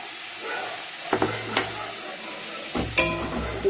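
Ginger-garlic paste sautéing in a pan for prawn malai curry, a continuous sizzle broken by a few scraping stirs and spoon knocks against the pan, near and moderately loud, no speech.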